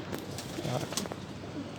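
A breeding Teddy pigeon's soft, low cooing comes in a few brief murmurs, close and fairly faint, over a steady background hiss with no talk.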